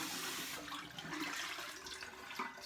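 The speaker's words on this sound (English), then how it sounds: "Let's get a bit more hot water on the seam." Hot water running from a bathroom tap during a traditional wet shave, a quiet, continuous rushing stream that fluctuates slightly in strength.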